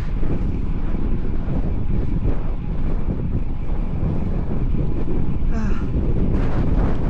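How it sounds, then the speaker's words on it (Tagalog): Strong wind gusts buffet the microphone during a long bike ride, a loud continuous roar of rumbling wind noise with no pauses. "Hampas ng hangin."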